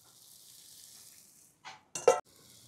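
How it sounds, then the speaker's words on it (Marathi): Sabudana kheer (tapioca pudding) with grated coconut, cardamom powder, raisins and fried dry fruits being stirred in a pan: a faint simmering hiss, then two short scraping stirs close up, no talking. "व्यवस्थित मिक्स करून घेऊ आपण"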